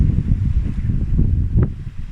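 Wind blowing across the beach at Brook Chine on the Isle of Wight, a steady low rumble with gusty buffeting on the microphone and a faint surf wash beneath, continuous throughout.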